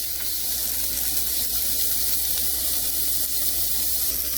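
Sausages sizzle and spit steadily in a hot pan, a continuous loud frying hiss with no pauses and no one talking.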